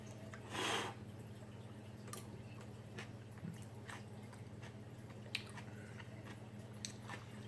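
Someone eats a roasted onion smothered in brown gravy, making faint, soft chewing and wet squishing sounds with one brief louder bite near the start, close but quiet against low background hum.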